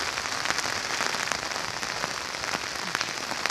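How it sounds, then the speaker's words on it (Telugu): Heavy rain falls steadily over a hilly village area in Rekurthi, a dense, continuous patter on surfaces with no voices. "చాలా వర్షం ఉందండి."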